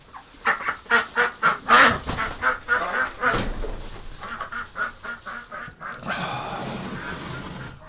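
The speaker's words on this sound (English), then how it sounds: "we got a trapped duck" A trapped duck honks in a run of loud, rhythmic calls close to the microphone, followed by softer, rougher continuing noise.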